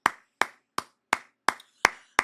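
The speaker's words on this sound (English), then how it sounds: "Let's give a round of applause." Seven evenly spaced, sharp single claps from one person, crisp and close with a woody snap and short decay, a slow rhythmic round of applause with no talking.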